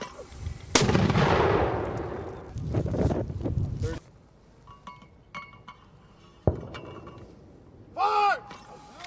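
Live-fire combat drill with US Army paratroopers and Slovenian armed forces: a heavy blast opens a long rumbling roar, followed by further booms and sharp cracks, with shouted commands in between.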